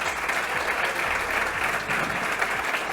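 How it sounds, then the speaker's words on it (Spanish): Steady applause from an audience fills the room as a speaker named Susana comes up to the stage, continuous and fairly loud with no voices on top. "Un aplauso para Susana"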